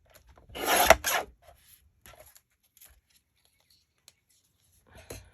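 Paper scrap being trimmed for a handmade shabby pink tearoom journal, one short close rasping cut followed by faint scattered rustles and small taps.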